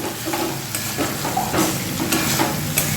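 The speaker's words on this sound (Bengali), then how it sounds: "তেল ছেড়ে এসছে আর একটু আমি ভাজবো মশলাটা কষাবো" Masala frying in oil in a pan for egg tadka, a loud continuous sizzle with repeated stirring scrapes, close up and with no voices.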